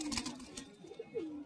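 Kalduma pigeons at the Galiff Street pigeon market give soft, low cooing calls, a few short gliding coos close by but faint, with no talk.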